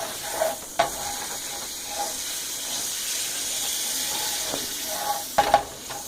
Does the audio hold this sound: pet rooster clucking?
no